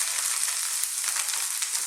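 Vegetable chili cooking down in a pan, a short, steady hiss of bright sizzling with faint crackle, close and even, no voices.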